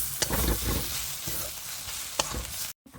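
A cabbage filling with salt, sugar, turmeric, chili, cumin and coriander powder is stirred in a pan for stuffed paratha: a soft, close sizzle punctuated by a few sharp spatula scrapes, cutting out briefly near the end.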